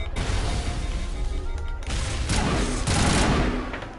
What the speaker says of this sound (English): gun sound effects are drowning me out again